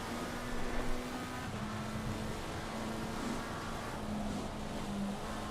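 Race car engine held at part throttle in a sim racing game on a wet Suzuka circuit, a steady droning hum running throughout with no voices.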